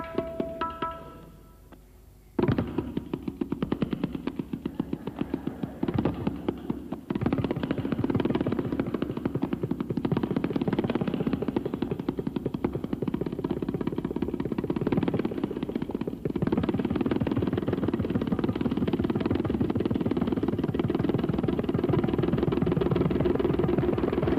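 Tabla struck in fast, continuous rolls to imitate a motorcycle engine, a buzzing, rumbling drone that starts after a brief quiet moment and keeps up steadily for over twenty seconds.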